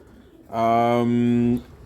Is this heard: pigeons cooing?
yes